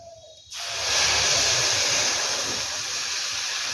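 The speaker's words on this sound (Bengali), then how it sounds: "এবার এর মধ্যে দেব এক চামচ গুঁড়ো দুধ আর দেব এক কাপ রুম টেম্পারেচারে থাকা নর্মাল দুধ" Milk poured into fried grated carrots in a hot pan for carrot laddu gives a sudden loud sizzling hiss that starts sharply and holds steady, close and alone.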